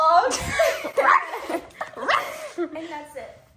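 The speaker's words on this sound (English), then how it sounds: "The dog." A dog barking and yipping during a casual outing, a few sharp barks and whimpering yips mixed with people talking loudly close by.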